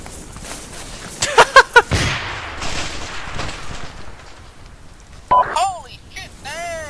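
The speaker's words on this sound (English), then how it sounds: "I threw a frag by accident." A fragmentation grenade goes off in Arma 2 during a firefight at a gate breach, a single heavy blast with a long rumbling tail following a few sharp shots, then a voice exclaims over the fading noise.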